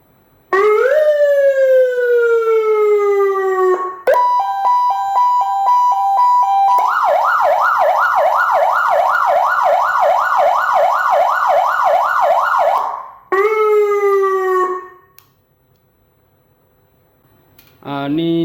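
A police motorcycle siren-and-speaker set cycles through loud wail and rapid yelp tones, then a rising sweep, cutting off briefly between patterns before a short final burst, all close and without talking.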